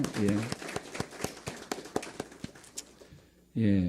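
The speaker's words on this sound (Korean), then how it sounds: "우리 박수로 우리 환영해 드리겠습니다" A church congregation gives a short round of applause to welcome guests, a sparse run of distinct claps fading out, with a person talking just before and after.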